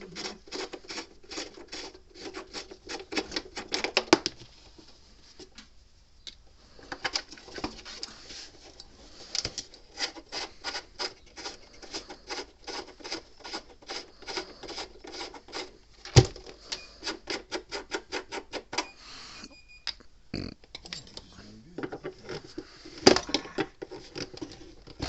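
Knobs are pried and worked off a Gallagher B200 electric fence energizer, heard as close, busy clicking, tapping and plastic rubbing in irregular bursts with brief pauses and a few sharper knocks, no talk.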